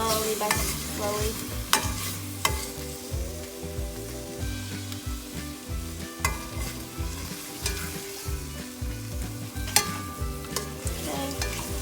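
Tomato sauce for paneer tikka masala sizzles steadily in a pan while being stirred, with a constant frying hiss and repeated scraping and clinking of the spoon close up.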